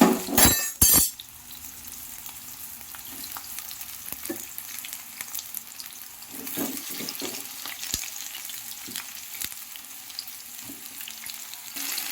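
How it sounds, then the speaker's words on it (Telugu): About half a kilo of sliced bitter gourd hits hot oil with a loud splash and crackle, then settles into a steady close sizzle broken by scraping and clinks as the pieces are stirred. No one speaks. "వీటిని మనము ఆయిల్లో వేసుకుందాం ఆయిల్ వేడెక్కింది కదా చూడండి"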